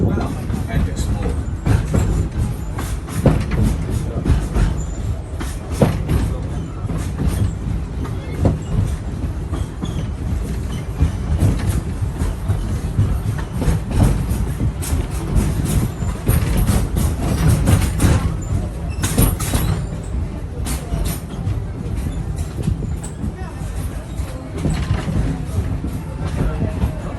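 Disney's Rafiki's Planet Watch train at Animal Kingdom rolling along rails, a long steady rumble with rhythmic clickety-clack of wheels over joints and occasional squeals, loud and close throughout.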